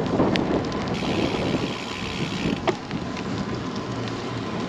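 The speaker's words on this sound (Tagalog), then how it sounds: "Naabot na tayo ng bagyo." Heavy storm rain pours steadily while cycling, a dense continuous hiss with wind buffeting the microphone throughout.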